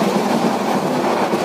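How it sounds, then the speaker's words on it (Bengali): The Sonar Bangla Express, a passenger train with Korean-built coaches running from Dhaka to Chittagong, makes a steady, loud rumble with faint rail clatter, heard from on board. "আমরা সোনার বাংলা এক্সপ্রেস ট্রেনে ভ্রমণ করতেছি ঢাকা থেকে চিটাগাং"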